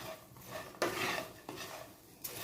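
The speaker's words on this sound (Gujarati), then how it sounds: "હવે આપણે આ બધા જ મસાલાને સારી રીતે મિક્સ કરી દઈશું" A spoon scrapes and stirs dry spices together in a metal pan for oats chivda, with a few distinct scraping strokes and light clinks in a quiet kitchen.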